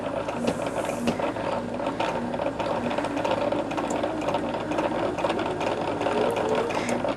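A sewing machine runs continuously and close, stitching a thin seam along quilt binding, with a steady mechanical whir and rapid needle ticking throughout and no talking.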